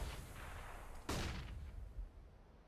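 Gunfire from a Counter-Strike match, a dense burst of distant automatic spraying with one sharp close shot in the middle, followed by scattered trailing reports, faint overall.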